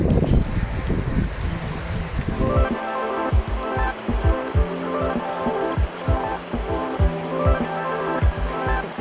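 Tasmanian river near a waterfall rushing in a steady broadband wash, with repeated soft knocking thuds and a faint tonal hum layered over the flowing water.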